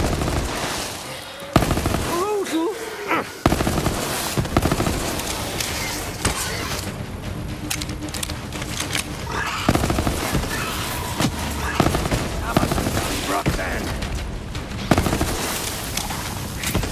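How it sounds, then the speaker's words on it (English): Gunfire in the video game Borderlands 3 (Bounty of Blood, on PS5): long bursts of rapid machine-gun fire crack nearly nonstop and up close, with short gaps, some heavy impacts, and faint voices at times. "Shoot more!"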